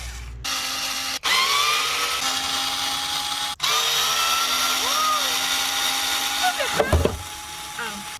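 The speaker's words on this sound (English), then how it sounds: "So I just want to sand a little bit so we have a little bit more space." A power sander works over painted soft wood during a micro camper build, a steady close whine broken by two brief pauses, with a rougher, louder burst near the end.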